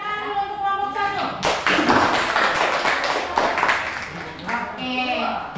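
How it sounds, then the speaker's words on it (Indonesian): A classroom group claps for group 1: several seconds of loud, dense clapping from many hands, with a teacher's voice speaking before and after it. "tepuk tangan dulu untuk kelompok 1"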